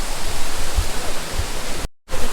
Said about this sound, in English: this is where it all begins right here, these little waterfalls